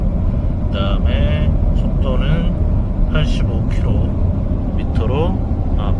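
Steady road and engine drone inside a 2024 VW Atlas cruising on a highway with cruise control engaged, heard continuously beneath someone talking throughout.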